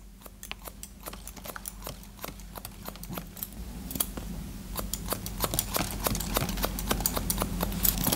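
Steady rhythmic snips of scissors cutting wet hair during a men's short mullet haircut with a taper, close and fairly quiet, repeating in a quickening series with a low hum beneath.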